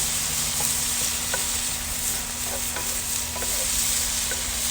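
Dijon mustard is stirred into a sizzling Steak Diane sauce in a cast iron pan on a grill, a steady loud sizzle with faint scraping taps of the spoon, heard close with no talking.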